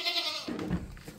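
A goat bleats on a farm, one drawn-out wavering bleat at close range, fading into quieter rustling and movement.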